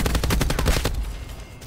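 Rapid automatic hip-fire from a gun in Black Ops 4, a close, loud burst of evenly spaced shots lasting about a second before trailing off into echo.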